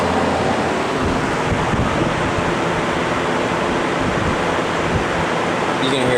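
General Electric W22 and W25 box fans running together on high speed, a loud, dense, steady rush of moving air close to the microphone, unbroken for the whole stretch.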